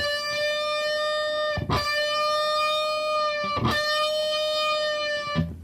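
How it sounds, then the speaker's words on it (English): Sustained electric guitar note held clean and alone, slightly bent a quarter tone and released, with picked attacks repeating about every two seconds. "a quarter bend would go like this."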